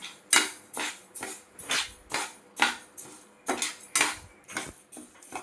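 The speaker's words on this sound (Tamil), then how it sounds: "2 கப்பு புழுங்கல் அரிசிங்க ஒரு பேனில் போட்டு நம்ம எல்லாம் சிவப்பாக அப்படியே வறுத்துக்கலாங்க." Parboiled rice dry-roasting in a pan over medium flame, heard as a series of about ten sharp metallic scrapes and clinks of a spoon against the pan in an uneven rhythm, close, with quiet gaps between strokes.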